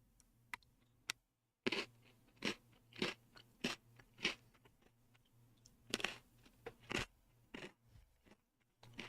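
Chocolate-coated banana Pocky sticks crunch in repeated crisp bites and chews close to the mouth, quiet sharp cracks in an uneven rhythm with short pauses.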